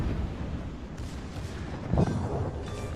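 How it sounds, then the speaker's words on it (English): Heavy warship guns boom in World of Warships as the French cruiser De Grasse fires AP and then HE shells, with a few deep rumbling blasts over steady ocean and engine background. "I'm currently firing AP at him, but I switch quickly to HE"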